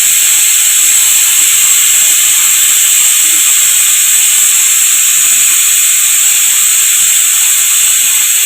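Cumin seeds sizzle in hot oil for a temple-style puliyodharai kuzhambu, a loud, steady bright hiss that continues unbroken throughout.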